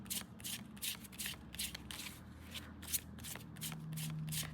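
Tarot cards are shuffled by hand in a steady run of crisp riffling bursts, close and moderately loud over a low background hum, with no talking.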